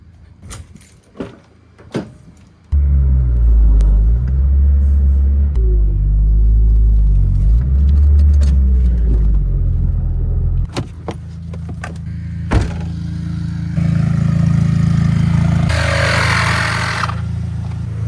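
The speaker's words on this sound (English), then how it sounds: "I'm just gonna go ahead and move the RSX out of the shed" An Acura RSX starts up with a deep rumble after a few clicks and knocks, then idles and creeps out of a shed, engine note rising as it moves, with a door thud and a later hissing swell.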